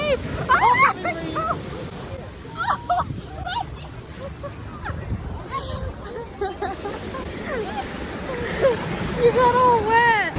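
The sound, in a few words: big ocean wave crashing on a beach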